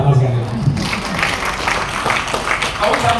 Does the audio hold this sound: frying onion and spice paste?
no